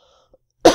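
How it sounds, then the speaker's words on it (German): A single short, sharp cough from a German gaming commentator at the microphone, close and sudden after near silence. "kleiner Huster"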